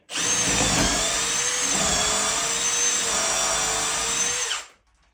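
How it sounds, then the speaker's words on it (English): A power drill bores pilot holes for 3/8 inch bolts, running a single loud, steady whine for several seconds before shutting off and winding down. "the reason I'm pre-drilling because these guys are 3/8 inch in diameter"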